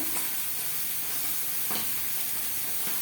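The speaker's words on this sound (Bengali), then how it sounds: "পরের মাছ একইভাবে ভেজে নেব" Foli fish pieces frying in a pan with a little oil: a loud, continuous close-up sizzle and hiss that holds steady throughout, with faint occasional stirring and no speech.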